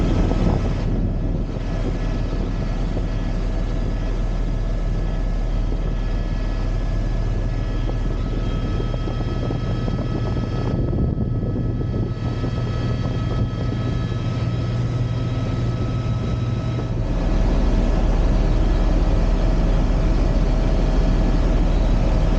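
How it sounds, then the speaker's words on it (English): A tour helicopter in Hawaii drones steadily overhead with a deep rotor rumble and engine whine, wind buffeting throughout and the pitch shifting slightly partway through. "I think the helicopter sounds super cool"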